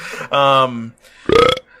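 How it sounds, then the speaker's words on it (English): Two loud, drawn-out burps in quick succession, close to the microphone, the second rising in pitch. "We don't want burps."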